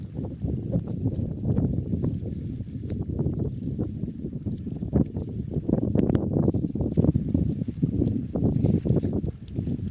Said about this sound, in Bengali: বাতাসের শব্দটা শোনেন আর পানির শব্দটা শোনেন